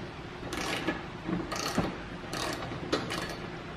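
A bolt on a Jeep air dam being tightened, giving a few soft, spaced ratcheting clicks and metallic turns, faint and close, with no talk.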